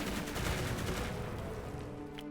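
An artillery shot in the Ukrainian war strategy game U.D.F.T., a loud booming blast whose rumble rolls and slowly fades over a couple of seconds.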